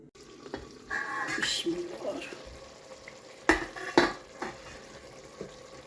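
Lentils and mutton sizzle and simmer in a pot while a spoon stirs and clinks against the metal, with a couple of sharp knocks partway through.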